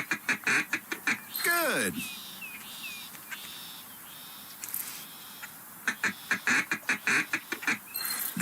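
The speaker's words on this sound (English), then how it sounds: "See if you can do a couple more feed calls." Duck feed call played in the Duck Dynasty video game: bursts of rapid quacking calls at the start and again near the end, with a descending duck call early on, separated by a quieter stretch and a brief spoken word.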